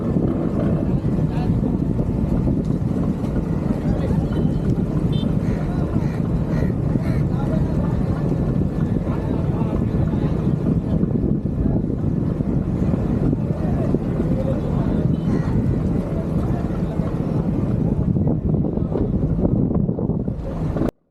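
A fishing boat maneuvered into position in a crowded harbor, its engine droning steadily and loud under gusting wind on the microphone and lapping water, with no break for the whole stretch.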